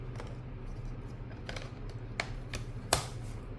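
Keys tapped on a Logitech MK540 wireless keyboard give a few sparse, soft clicks spaced irregularly over a quiet background hum, with no voices.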